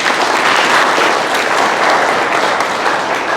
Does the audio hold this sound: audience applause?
yes